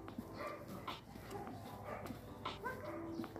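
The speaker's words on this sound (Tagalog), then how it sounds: "Aso ng kapitbahay lang namin yan ha" A neighbor's dog barking and whimpering nearby, faint yips and whines scattered across a quiet outdoor background with a person talking softly.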